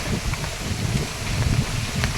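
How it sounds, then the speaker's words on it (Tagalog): Strong typhoon wind gusting outdoors in Vigan, Ilocos Sur, a steady low roaring rush with rustling, swaying bamboo nearby, continuous and fairly loud throughout with no talking. "Ayan, ang lakas ng hangin."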